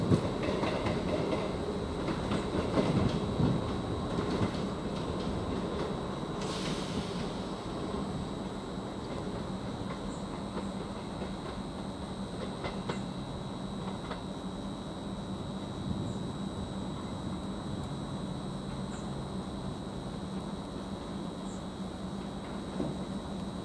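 A Greater Anglia train moves through Norwich railway station, a steady rumble of wheels and carriages with occasional clicks and squeals, heard from the platform at a moderate distance.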